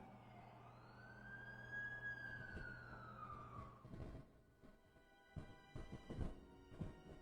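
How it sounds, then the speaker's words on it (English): An ambulance siren in a Spider-Man video game wails in a rising and falling sweep, then fades out and gives way to scattered clicks and knocks, with no voices. "That's the ambulance I called."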